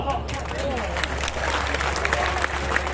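An audience at a magic show during a Deepotsav fair claps steadily over a low electrical hum, with a murmur of crowd noise mixed in.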